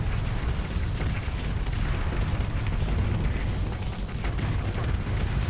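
Mines explode in a Starsector space battle with pirate and Remnant battlefleets, producing a dense, continuous rumble of overlapping booms and bursts that stays loud and unbroken throughout, without speech.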